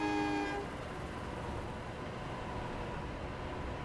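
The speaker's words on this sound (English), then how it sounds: "sort of reminds me of an AFL horn" In Train Sim World 6, a simulated train sounds a short, loud horn blast that cuts off after about half a second, leaving steady rumbling train noise underneath.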